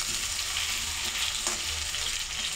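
Potatoes fry in hot oil in a wok, giving a continuous, even sizzle that stays dense and steady throughout with no voices.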